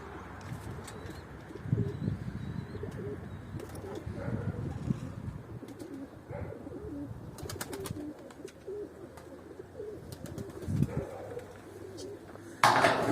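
Flying pigeons coo in soft, repeated throaty calls over steady outdoor background noise, with occasional sharp flutters of wings.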